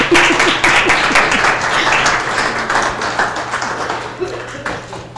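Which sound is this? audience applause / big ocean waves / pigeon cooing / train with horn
audience applause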